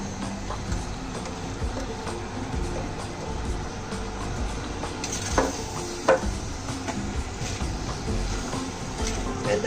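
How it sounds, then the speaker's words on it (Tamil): Onions sautéing in a pan for chilli paneer make a steady low sizzle, with occasional stirring clinks and scrapes of a utensil against the pan throughout. "வெங்காயம் போட்டு 2 நிமிஷம் வதக்குங்க"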